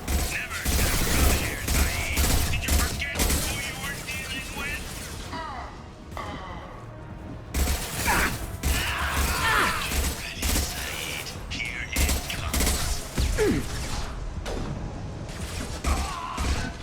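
Rifle fire from a firefight in the video game Mass Effect 2, a dense run of sharp shots and crashing impacts over a steady game backdrop, with a brief lull around the middle and people talking throughout.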